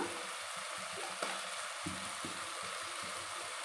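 Fenugreek leaves hitting hot chicken biryani masala in a pan, a steady broadband sizzle with soft scraping stirs and a few louder clatters of the spoon, close and continuous with no talk.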